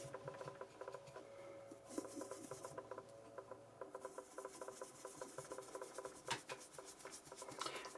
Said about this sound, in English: So you can apply gently the powder and rub after